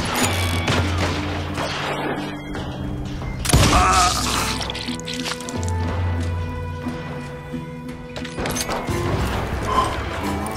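Western-style gunfire in the video game Call of Juarez Gunslinger: scattered shots and a sharp report near the middle over a busy bed of game music and ambience, moderately loud with no speech.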